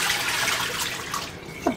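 Water pours into a pot of apple peels and cores, a continuous close splashing rush that is loud and steady, then tapers with a few gurgles at the end.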